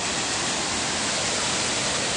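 Sojeongbang waterfall on Jeju pours in a loud, steady broadband roar blended with crashing sea waves, continuous and close with no voices.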